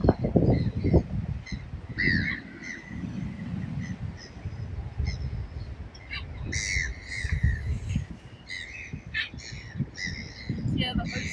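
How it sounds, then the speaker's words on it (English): Crows caw and squawk repeatedly by the ocean, their harsh calls coming in bursts over a low continuous wash of surf, with a voice talking intermittently underneath. "Hear the ocean and the birds around you."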